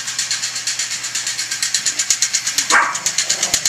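Rapid, steady barking repeats throughout, several dogs yapping close by over a constant background hum.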